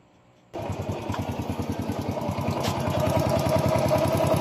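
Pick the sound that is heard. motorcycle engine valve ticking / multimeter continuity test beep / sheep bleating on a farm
motorcycle engine valve ticking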